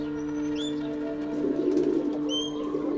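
Pigeons coo in low, steady, rounded calls close by, with faint bird chirps above them and a rustle of movement partway through.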